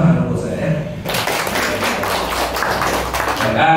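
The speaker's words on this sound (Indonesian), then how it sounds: "tepuk tangan untuk saya" Applause from an audience at a talent-hunting event, a dense burst of clapping rising suddenly after a moment of voices and filling the room at steady strength.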